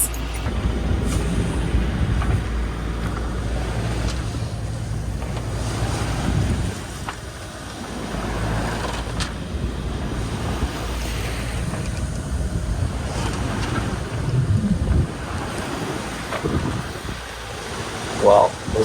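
A sailboat motoring at sea into north headwinds, its engine giving a steady low drone under constant wind and water noise, with brief thumps and creaks throughout.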